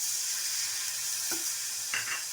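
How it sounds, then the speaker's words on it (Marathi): Tomatoes sauté in a pan under a constant hiss of frying, broken twice by short scraping stirs close by. "याच्यामध्ये टमाटो घालायचं चांगलं परतून घ्यायचं"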